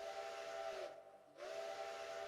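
The steam whistle of O-scale model train locomotive 850, running on a mine branch layout in a bedroom, sounds two sustained tones split by a short gap, fairly faint and close.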